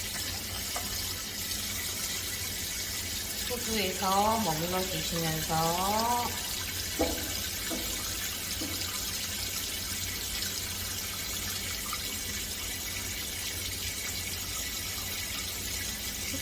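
A shower head runs steadily in a scalp-care shampoo session, its water noise a constant hiss throughout while someone talks over it for a few seconds.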